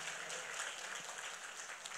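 A church congregation claps at a worship service, a continuous, fairly distant wash of applause that stays level and fills the room for the whole stretch.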